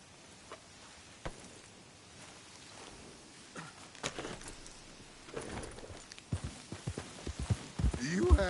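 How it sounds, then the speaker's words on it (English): Soft horse hooves clip-clop in the Red Dead Redemption 2 video game, irregular and faint at first, then growing busier and louder toward the end against a quiet background. "I'll take his horse."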